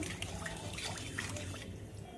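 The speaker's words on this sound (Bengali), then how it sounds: "জল দিয়ে দিচ্ছি, আর একটু জল দিয়ে দিলাম।" Water is poured into a cooking pan while making an ilish fish curry with potato and brinjal, a soft splashing trickle with light drips that fades out near the end.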